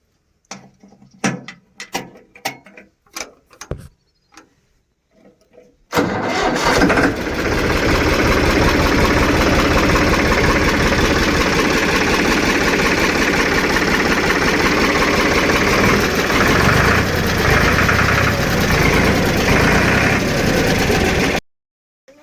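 A tractor engine, just refitted with two new filters, cranks and catches after a few quiet clicks and knocks, then settles into a loud, steady diesel idle that runs unbroken to the end.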